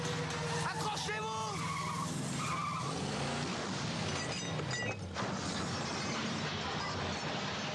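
A car with failed brakes skids out of control, tires squealing in rising, wavering shrieks over engine roar, with a crash-like burst midway and excited voices talking throughout.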